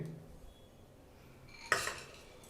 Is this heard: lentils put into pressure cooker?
yes